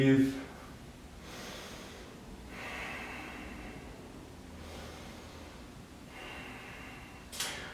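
Slow, deep yoga breaths while holding a warrior two pose, each long inhale and exhale a soft airy rush, four or five in a steady unhurried rhythm, close and quiet.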